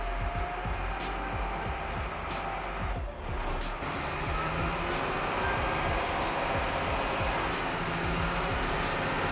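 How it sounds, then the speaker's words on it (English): A Stewart & Stevenson M1079 military truck on the move, its engine a steady, loud droning rumble as the turbo spools up, with a faint rising whine over the low roar. "You can hear the turbo spooling up."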